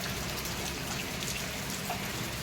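Steady rain falls in an even, dense hiss with scattered drips and patters on surfaces, continuous and moderately quiet with no voices.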